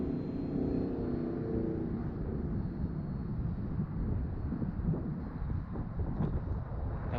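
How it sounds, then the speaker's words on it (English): Outdoor wind buffeting the microphone during an RC plane flight with an FT Bushwacker: a continuous low rumbling roar, loud and close, with a faint high whine and no clear voices. "Wind is pushing me to the left a lot."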